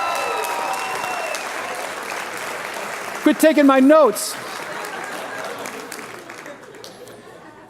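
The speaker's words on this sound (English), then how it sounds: "Team Vineyard, give yourselves a round of applause." Church conference crowd claps briefly at a session, steady applause with someone talking and a short burst of laughter over it, fading toward the end.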